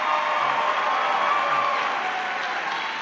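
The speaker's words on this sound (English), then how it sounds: "Everyone, once again, a big clap for Miles" Audience applause for a fencer named Miles at a World Fencing League event in Los Angeles, a steady, dense clapping from a large crowd sustained throughout without a break.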